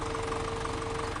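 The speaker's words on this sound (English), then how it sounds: "This tractor can park here." A Massey Ferguson tractor in Farming Simulator 17 idles with a steady, even engine hum and a faint knocking pulse beneath it, heard alone in a short stretch.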